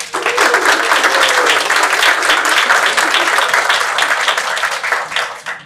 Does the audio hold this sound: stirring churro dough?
no